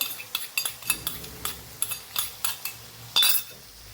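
A spoon or spatula clinks and scrapes repeatedly against a pan while prepared spice masala is sautéed with onion, tomato, garlic and ginger; the close, irregular knocks are separated by brief pauses over a quiet background.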